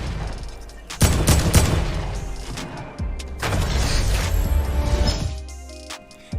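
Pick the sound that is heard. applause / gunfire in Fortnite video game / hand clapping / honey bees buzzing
gunfire in Fortnite video game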